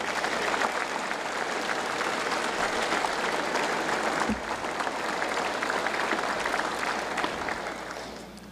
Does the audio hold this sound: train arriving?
no